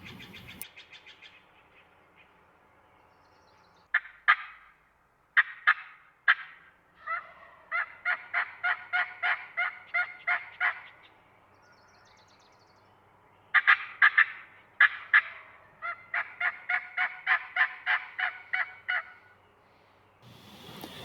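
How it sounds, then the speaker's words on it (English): Wild turkeys gobble in repeated rattling bursts, several rapid calls strung together with pauses between, fairly close and clear over a quiet background. "I had spotted the turkeys right here"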